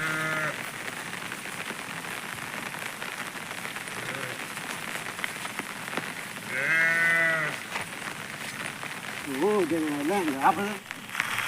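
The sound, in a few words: rain falling all day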